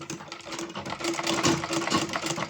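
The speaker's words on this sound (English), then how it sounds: "Then we place it into our sewing machine." A sewing machine runs steadily, its rapid mechanical stitching hum holding an even pitch with a slight rise in loudness midway.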